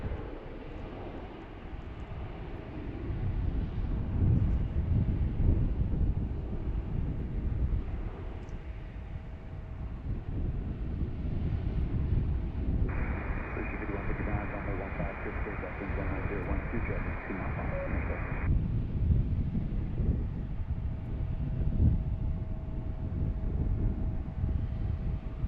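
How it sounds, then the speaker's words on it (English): An airliner takes off from runway 15 at DCA. A broad, distant jet roar rumbles steadily and swells slightly over the whole stretch, with faint voices in the background. "Another one taking off on runway 15."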